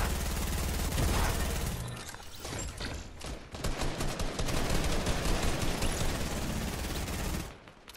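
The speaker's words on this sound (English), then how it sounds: "the compact SMG, I just heard that go off" Rapid compact SMG gunfire in a video game match, a dense, loud, sustained burst of automatic fire that briefly thins and then resumes before cutting off near the end.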